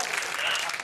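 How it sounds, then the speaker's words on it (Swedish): A television studio audience at a Swedish bingo lottery show cheering and clapping, a dense, loud burst of applause with a speaking voice mixed in underneath. "Det blir jubel i studion."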